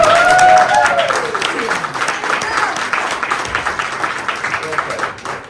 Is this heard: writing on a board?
no